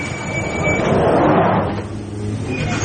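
A sliding door on a crowded suburban train compartment at a station rolls shut with a rising whoosh and settles, heard close over steady carriage rumble.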